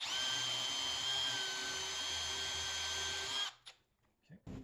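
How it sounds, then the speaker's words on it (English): A power drill whines steadily and loudly for about three seconds drilling a hole for a ladder ceiling hanger, then stops, followed by a few faint handling noises. "I'm gonna go ahead and drill a hole for it."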